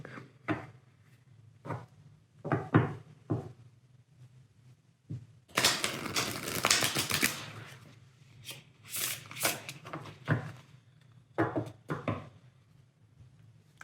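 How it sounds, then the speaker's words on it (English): A deck of tarot cards is reshuffled by hand: short riffling bursts and taps, then a longer dense shuffle in the middle and more quick riffles after it, all close and fairly quiet, with no speech. "I will just reshuffle the deck."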